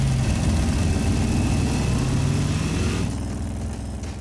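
A motorbike engine in the Trails of Cold Steel video game idles with a steady low rumble, then drops slightly in level near the end, with no talk over it.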